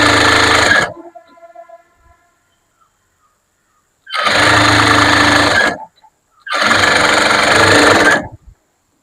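Sewing machine stitching blouse fabric in three loud bursts of fast, steady running, separated by silent pauses and a faint mechanical whir.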